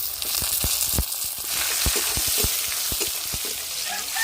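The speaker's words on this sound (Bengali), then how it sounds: "পেঁয়াজটা লাল লাল করে ভেজে নিয়েছি টমেটো কুচি দিয়ে দিচ্ছি" Chopped tomato hits reddened fried onions in a pan for jackfruit-prawn curry, raising a loud steady sizzle with rhythmic spatula scrapes and knocks, close and with no voices.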